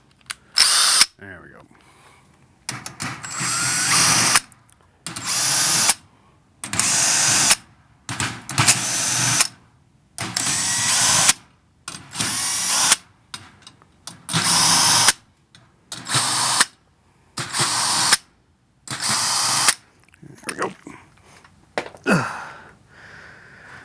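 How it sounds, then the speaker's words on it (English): A power drill whirs loud and close in about a dozen short bursts, each separated by a brief pause. "Drill."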